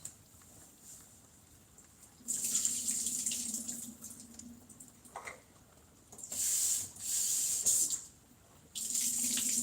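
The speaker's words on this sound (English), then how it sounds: "I'm going to empty out the water from the beans." Water from an opened can of beans poured out into a kitchen sink, splashing and running in several bursts separated by short pauses, fairly close.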